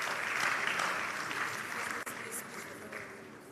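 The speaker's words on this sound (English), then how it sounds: "Round of applause," Audience applause fills an awards ceremony at a retail congress as finalists are announced, a dense, steady clapping that stays loud throughout with a brief dip near the middle.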